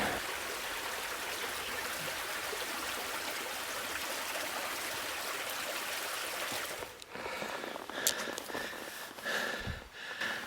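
A creek at the Madrone campsite in the Ventana Wilderness flows with a steady, soft rushing murmur. A few faint clinks and shuffles sit on top of the water toward the end.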